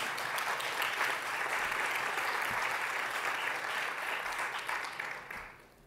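An audience at a colloquium on living and working with cancer breaks into sustained, even applause that holds steady, then tapers off and fades out at the end.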